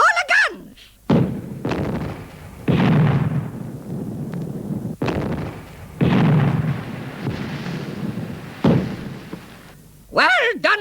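Ship's cannons firing in a comic Armada sea battle: several heavy booming blasts in a loose sequence, each followed by rumbling decay, with voices shouting between them.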